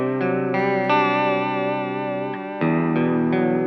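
Guitar through a Corona Chorus pedal set to a low-depth single-voice vibrato, sustained chords wavering gently in pitch, steady and close with two chord changes, no talking.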